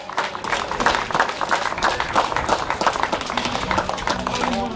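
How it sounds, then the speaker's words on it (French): Audience applause greets a female cyclist at the podium of a women's elite road race, a dense, steady patter of clapping running throughout with a voice speaking over it. "Voilà, on peut l'applaudir également."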